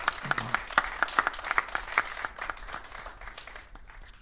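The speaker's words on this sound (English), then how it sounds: "let's once again give a nice round of applause for Colin" Applause at a songwriters showcase, heard as scattered, fairly sparse claps that thin out over a few seconds, with some crowd noise and a brief voice underneath.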